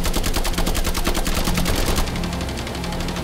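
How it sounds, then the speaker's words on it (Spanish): Rapid laser gun fire in a War of the Worlds video game, a loud, fast stream of evenly spaced shots that continues for about two seconds and then gives way to a steady rumble. "yo voy a dispararle al láser"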